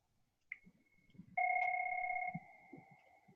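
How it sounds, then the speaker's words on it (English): Phone ringing indoors with a steady electronic tone, one short beep followed by a sustained two-pitch ring, faint low rustles beneath. "the phone's ringing here"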